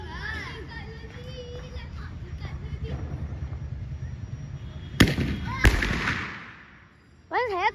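Diwali firecrackers going off outdoors, a steady crackling fizz under children's voices, then two sharp loud bangs close together with a spreading hiss, followed by a brief quieter lull and more talk.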